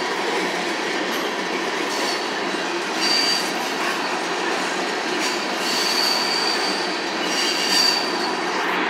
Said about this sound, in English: This train's moving a little slower than the one that was that went through a while ago.